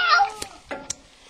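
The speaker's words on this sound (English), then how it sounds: "Look at that nice kitty, Clara." A pregnant cat gives one short, close meow, followed by a few faint clicks and soft rustles.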